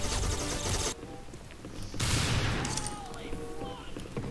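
Bursts of video game gunfire from a TF2 Murder Mod match, loud dense volleys at the start and again midway, with a quieter gap between.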